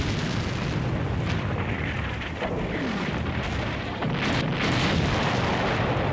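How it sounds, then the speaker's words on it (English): Artillery shells bursting near a gun in a mountain pass in the World War II strategy game Combat Mission: Afrika Korps, a dense, continuous rumble of booms and blasts at a steady loud level with no voices. "the artillery shelling is happening near that gun in the mountain pass"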